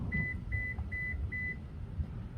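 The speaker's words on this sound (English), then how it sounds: "So all you have to do is click the Subaru button to unlock." Four short, evenly spaced electronic beeps from a 2020 Subaru Crosstrek 2.0i Premium as its smart key unlocks the car, clear and close over faint background hum.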